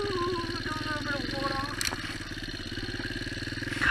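A motorcycle engine running close by with a steady, pulsing idle rumble that lifts slightly near the end, while a person talks over it.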